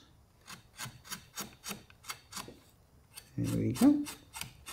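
Rhythmic rasping strokes of hand sanding on carved wood, about eight even passes, then a louder scrubbing burst as a voice speaks briefly.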